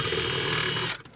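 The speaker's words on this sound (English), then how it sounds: "we're gonna take our drill and we're gonna drill a small hole here" A power drill bores a small hole into a plastic compartment of a 2004–2008 Acura TSX, making a steady close whir that stops abruptly near the end.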